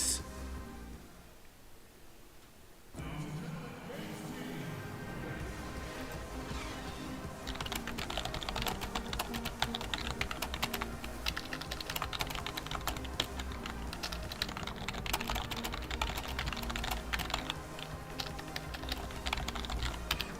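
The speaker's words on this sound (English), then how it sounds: "Sorry, just typing in the Discord." Rapid typing on a computer keyboard during a basketball game stream, dense continuous key clatter close up, quieter at first and then steady and busy for the long stretch, no talking.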